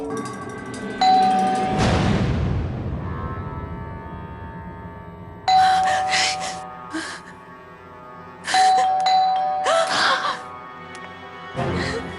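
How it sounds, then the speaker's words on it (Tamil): A doorbell chimes again and again at a house's front door, someone pressing it repeatedly. Three separate bursts of ringing tones are spread across the clip, with a louder clatter near the start. "மிஸ்ஸஸ் தாஸ் கதவை தட்டுறாங்க, பெல் அடிக்கிறாங்க"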